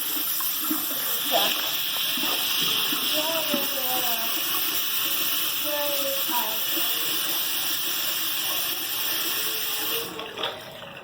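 A tap runs steadily into a sink as hands are rinsed, a constant close water gush with splashing changes, then shut off near the end; voices talk over it.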